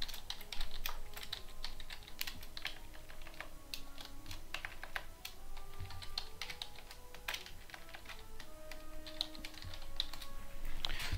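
Steady keyboard typing at a computer during a Wizard101 game session, dense irregular key taps running throughout alongside faint tonal game sounds in the background, with no voice.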